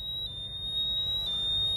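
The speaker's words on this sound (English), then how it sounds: "that's it going into alarm" A portable gas detector in alarm gives off a steady, piercing high-pitched electronic tone that holds continuously over low background hum.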